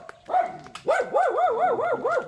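A dog barks and yips in a quick, rising series of high, wavering calls, close and fairly loud, with no talking.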